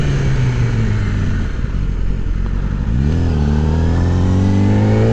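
A Yamaha R6 sport motorcycle fitted with a quick shifter revs hard, its engine note climbing, dipping briefly at a shift, then rising again, loud and close with no voices.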